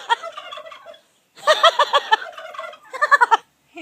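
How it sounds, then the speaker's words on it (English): A young rooster gives a series of rapid, throaty gobbling bursts close by, in three clustered runs separated by short pauses. "Look, that little baby rooster."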